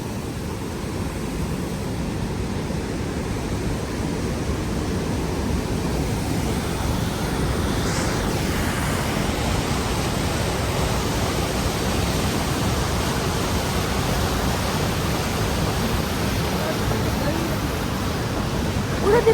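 A river rushes beside a bridge, a steady, broad roar of flowing water that holds constant throughout.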